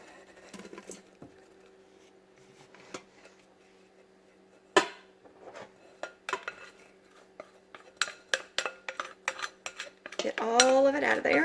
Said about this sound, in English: now we are going to put this back in our multi-pot